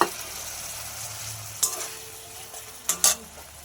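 Ground mustard and cumin paste hits tomatoes frying in a pan, a soft steady sizzle under a few sharp stirring clinks and scrapes.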